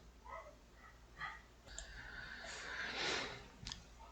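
Faint dogs barking and yipping in the background, a few scattered barks and whines, distant and quiet with no talking.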